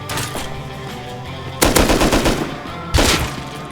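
Gunfire in the survival video game Rust: rapid automatic bursts of shots, loud and close, with two sharp volleys and a steady stream of shots in between, no talk.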